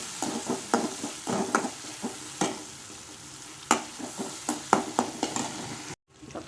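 Onions for a dry fish thokku frying in oil, a steady sizzle punctuated by quick spatula scrapes and knocks on the pan, close up, briefly cut to near silence toward the end.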